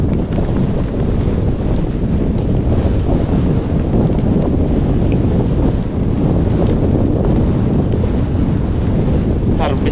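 Heavy wind buffets the microphone nonstop outdoors by a fish trap, a loud, rumbling roar that drowns out almost everything else for the whole stretch.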